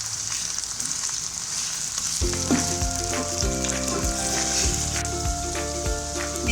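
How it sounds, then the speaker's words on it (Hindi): Garlic-ginger paste sizzles and spits in hot oil for a chicken biryani, a constant crackling hiss throughout, joined midway by a steady tonal hum. "लहसुन अदरक का पेस्ट था, ये मैं इसमें शामिल कर दूँगी इस टाइम पे, ताकि ये भी फ्राई हो जाए"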